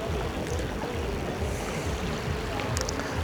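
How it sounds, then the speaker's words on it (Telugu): Strong wind buffets across an open tent campsite, a continuous loud rushing roar with low gusty rumble against the microphone throughout. "గాలి ఎక్కువ ఉంటుంది."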